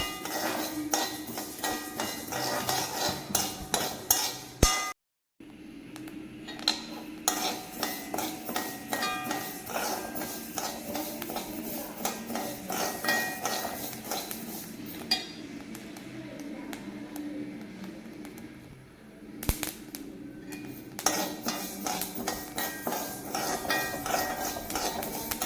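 Fenugreek seeds roasted and stirred in a pan for lime pickle, heard as a continuous stream of metallic scraping and clinking from a utensil against the pan, close and busy, with brief pauses and a short silent gap early on.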